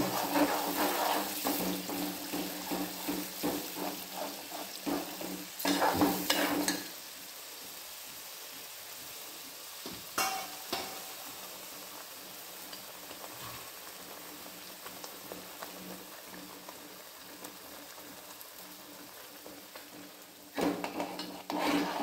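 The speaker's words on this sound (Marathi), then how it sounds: "आणि आता मसाला टाकणार। मसाल्याला शिजवणार चांगला।" Masala for a Konkan mandeli fish curry cooking in a pan, with bursts of sizzling and stirring scrapes in the first seven seconds, then quieter intermittent clatter and another loud burst of sizzle near the end.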